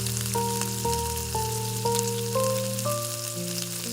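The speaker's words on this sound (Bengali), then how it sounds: "এবার এই পেঁয়াজ কুচি আর লঙ্কাগুলো যেটা কড়াইতে দিয়েছি হালকা হালকা নাড়াচাড়া করে ভেজে ভেজে নেব" Chopped onion and green chillies fry in a wok, a steady soft sizzle running low beneath a series of stepped, sustained tones that dominate the foreground.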